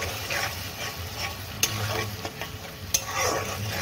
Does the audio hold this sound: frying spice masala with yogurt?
yes